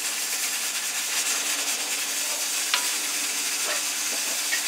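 Rice being stirred in a pot of boiling water while making Afghan shola goshti, a steady bubbling, sizzling hiss with faint scraping stirs, close and continuous throughout.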